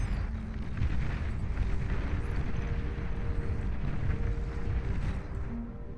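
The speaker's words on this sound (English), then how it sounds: "Tsar tank firing away." Tsar tank firing in the strategy game Beyond All Reason, a continuous dense low rumble of repeated booming shots and battle noise, steady and heavy throughout.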